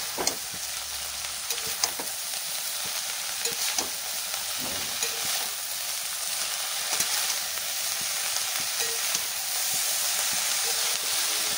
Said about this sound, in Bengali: এবার ভালো করে শাকটাকে ভেজে নেব।